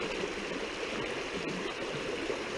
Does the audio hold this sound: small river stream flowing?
yes